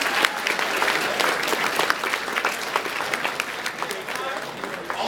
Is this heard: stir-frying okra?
no